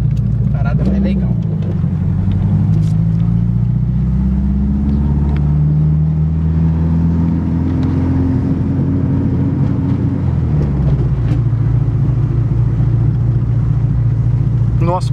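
A naturally aspirated Chevrolet Monza launches from a standstill, its engine loud and close as the revs climb steadily in pitch, then drop at a gear change before rising again, with people talking inside the car.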